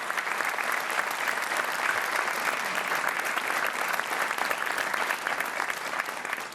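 A Portuguese TV game show studio audience applauds steadily, a dense, even clapping that holds for several seconds before tapering slightly at the end.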